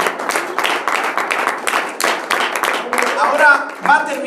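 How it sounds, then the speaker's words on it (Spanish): A church congregation claps during a Spanish-language sermon, rhythmic hand claps running throughout with a preacher's voice over them and some whoops near the end. "denle al Señor ese aplauso, hermano"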